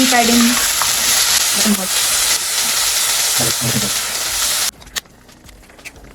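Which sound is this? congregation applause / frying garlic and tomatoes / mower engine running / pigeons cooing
frying garlic and tomatoes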